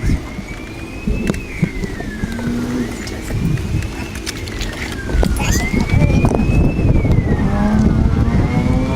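A truck rumbles off-road over debris-strewn ground after a hurricane, a continuous engine drone with bumps and clatter, and a siren-like wail rising and falling nearby.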